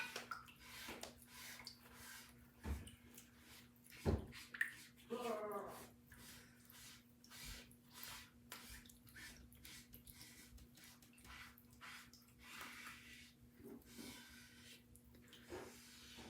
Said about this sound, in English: I have just a pan of water here. And I just use my board eraser and get the paste off the top of it.